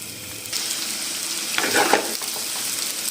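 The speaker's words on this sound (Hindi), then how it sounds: "प्याज को हमने ब्राउन नहीं करना, इसका हल्का सा इसको जो है इसका कलर चेंज करेंगे" Onions frying lightly in a pan for aloo andy, a steady broadband sizzle throughout that swells briefly louder midway, with no talking.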